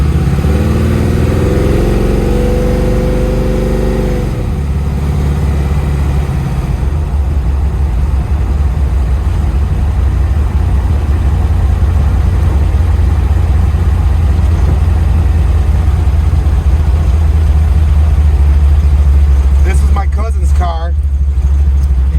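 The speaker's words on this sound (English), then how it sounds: "open it up real quick so you can hear it go through the gears" A 1940 Ford Deluxe gasser accelerates hard through the gears, its loud engine rising in pitch, dropping as it shifts, then holding a steady roar. Voices talk over it.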